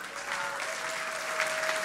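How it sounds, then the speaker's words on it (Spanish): Conference audience at a church gathering applauding, a dense, sustained wall of clapping from a large crowd, loud and even from start to finish. "Damos un aplauso, por favor."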